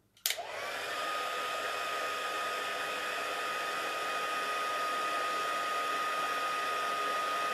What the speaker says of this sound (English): We'll just heat set that with the heat tool.